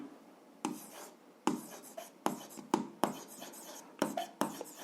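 Pen writing out a seventh-grade algebra solution on paper, heard as irregular bursts of scratchy strokes separated by short pauses, close and fairly quiet with no talk.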